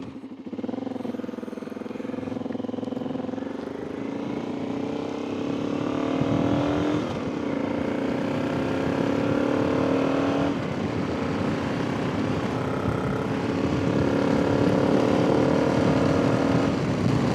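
A motorcycle engine runs steadily and loudly up close, its pitch climbing in several rising revs through gear changes, like a bike being ridden out on a sunny day, with no talk.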